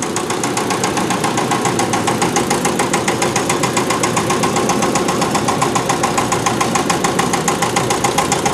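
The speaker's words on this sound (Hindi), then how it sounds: "देखो चली, ट्रैक्टर जैसी आवाज़, ट्रैक्टर जैसा इंजन हो" A self-propelled concrete mixer machine's tractor-type engine runs steadily with a rapid, even knocking pulse, loud and close, with no voices.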